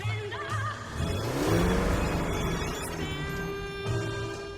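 A sports car engine growls under hard acceleration, a rising, sweeping tone that swells and then settles into a steady hum, heard at moderate level against a quiet indoor background.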